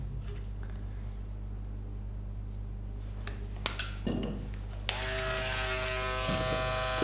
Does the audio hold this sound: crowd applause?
no